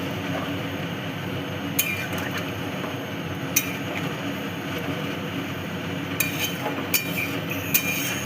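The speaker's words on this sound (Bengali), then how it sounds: "এবার ভালো করে নেড়ে নেব।" A spoon stirs chicken and potato curry with added warm water in a pot, producing sparse metallic clinks against the pot over a steady low bubbling hum.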